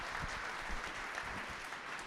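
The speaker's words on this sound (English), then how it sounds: "Round of applause for the panelists." An audience at an innovation event applauds the panelists, even, moderately distant clapping that runs steadily without pause.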